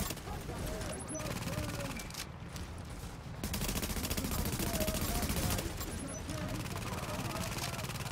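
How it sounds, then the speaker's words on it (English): A turret in The Division fires rapid gunfire bursts against a busy backdrop of shooting. Volleys swell in the middle and come with metallic clicks, and people talk over the action. "That turret is very powerful."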